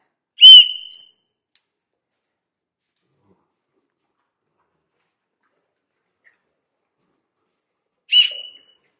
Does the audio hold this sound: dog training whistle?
yes